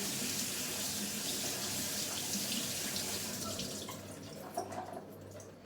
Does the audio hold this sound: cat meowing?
no